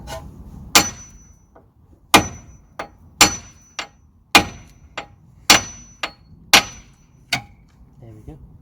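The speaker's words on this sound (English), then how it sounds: "I'm gonna hit the hammer on the hub to take it out." A hammer strikes the steel wheel hub of a Mitsubishi to knock loose the track rod and ball joint, about a dozen sharp, ringing metallic blows at uneven intervals, loud and close with no talking.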